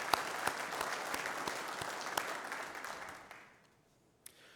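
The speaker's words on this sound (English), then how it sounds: "So big round of applause for the WSN Board of Directors." Audience clapping at a mining health and safety conference, a dense steady burst of applause from a crowd that fades out toward the end, followed by one stray clap.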